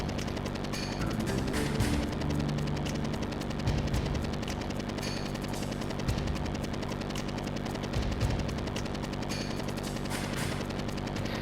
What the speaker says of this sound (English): I'm gonna blast the shit out of that chopper.